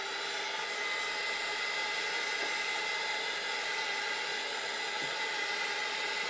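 A hair dryer drying paint on a craft piece blows a steady, loud, unbroken whoosh with a constant motor whine throughout.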